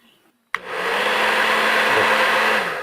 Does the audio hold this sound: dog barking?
no